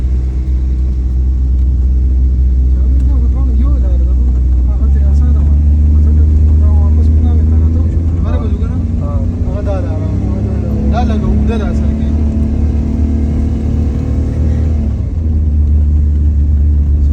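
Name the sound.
car engine revving while climbing a steep hill road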